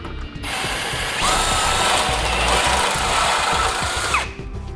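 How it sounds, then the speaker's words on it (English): A step drill bit grinds steadily through the metal of a 2007 Jeep Liberty for a base plate install, a loud continuous whirring and scraping that starts, holds for several seconds, then winds down. "I'm going to be using a step drill bit that I marked so I know when to stop"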